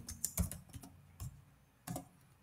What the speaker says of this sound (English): Then type Playwright MCP.